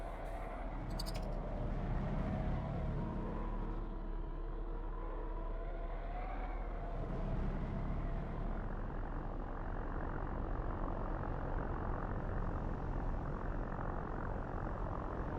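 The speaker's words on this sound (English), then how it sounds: "That sounds distressingly similar to prop engines." A spaceship in a space fleet video game gives off a steady, droning hum much like propeller engines, with a dense low rumble and shifting tones that hold at an even level throughout, with no talk over it.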